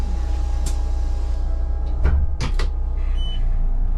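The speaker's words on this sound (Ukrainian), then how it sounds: "Зачиняю двері." A low bus engine idles steadily while several short clunks and sliding thumps sound as the bus doors close, followed by a faint hiss of air, in winter in Uzhhorod.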